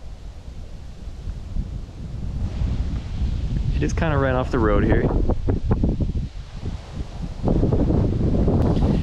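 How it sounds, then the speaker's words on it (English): Strong wind buffets the microphone beside a lake next to a parked Ford Transit Connect van, a loud steady roar with gusts throughout, while a person speaks over it in the middle. "It is super windy."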